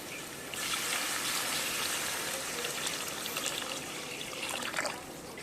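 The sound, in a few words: pouring tamarind water into fish curry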